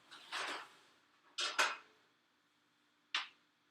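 Metal baking pans for chocolate chip cookies grabbed and handled in a home kitchen, giving three separate clattering bursts of clanking metal, the middle one a quick double knock, then quiet, with no talking.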